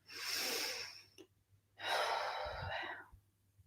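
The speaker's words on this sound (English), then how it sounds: "and just breathe." Slow, audible breathing during a guided meditation: one long airy inhale or exhale, a brief pause, then a second long breath, close and fairly soft with no talking.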